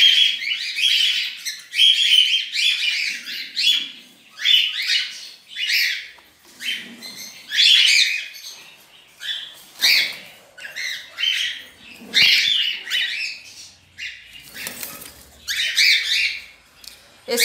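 Chicks squawking in a nest as they are taken out: a rapid, high-pitched chorus of harsh squawks and chirps in repeated bursts, close and fairly loud, with brief pauses between outbursts.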